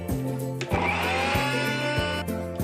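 A mixer grinder whirs as it blends chutney paste with water, its motor revving up and dropping in short repeated pulses, loud and close with no talking.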